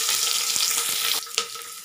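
Onions frying in hot oil with mustard seeds for a turkey berry sambar tempering, a loud continuous sizzle that drops abruptly partway through, followed by a few quieter crackles and a stirring knock.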